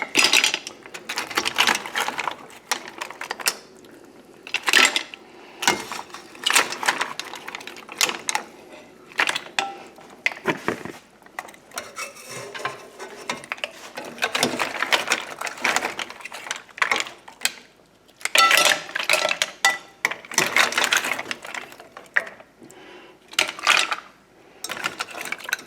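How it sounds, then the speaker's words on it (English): Cooked mussels in their shells being lifted out of a pot for a penne dish, with repeated clattering shell-on-metal clinks and scrapes in irregular bursts, close and fairly loud, without talk. "Now we'll take the mussels out."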